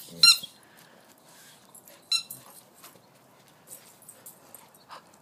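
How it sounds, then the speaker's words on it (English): Sharp squeaks from a dog toy as a dog chews it, a few loud bursts spread over several seconds with quieter rustling and small squeaks between them. "Is that nice and squeaky?"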